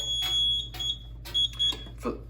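Fire alarm horns blaring in repeated loud bursts, each with a piercing high tone, over a low steady hum.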